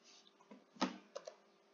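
A few soft, separate computer keyboard key clicks, quiet and close, with a slightly louder press in the middle, from playing the GeoFS flight simulator.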